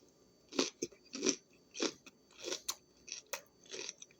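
Crisp bites and crunchy chewing of a homemade veggie pizza snack, about seven distinct crunches in a steady rhythm, close up and alone with no talking.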